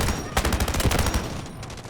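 A loud, rapid burst of automatic fire from a rifle fitted with a vertical compensator in the mobile shooter Delta Force Mobile, shots coming in a steady close rhythm that tapers off briefly before the end.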